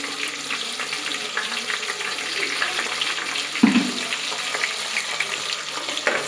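Onions and green chillies fry in a pan for chicken biryani with a steady, hissing sizzle throughout. A single soft clunk of a utensil sounds around the middle.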